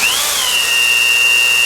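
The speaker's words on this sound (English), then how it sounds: "another thing you'll notice is you'll hear a loading on the drill" An electric drill spins a Rolls-Royce P3 dynamo, its whine rising briefly and then holding a steady, loud, high tone as the drill works under load.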